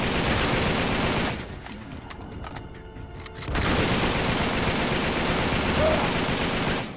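Machine gun fire in the Uncharted 3 video game, a loud continuous burst of rapid automatic shots that drops to a brief lull with scattered pops, then resumes at full intensity.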